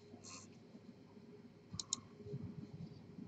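Faint computer mouse clicks while placing circuit components in SiMetrix software, a soft click early on and then a quick close pair, over a quiet background hum.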